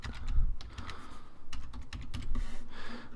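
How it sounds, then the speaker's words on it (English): Computer keyboard keys clicked in quick, uneven bursts while a password is typed in, close and crisp with short pauses between runs of keystrokes. "then you'd type in your password"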